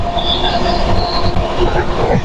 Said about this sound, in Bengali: এইবার কিন্তু ট্রেনটা বেশ স্পিড নিয়েছে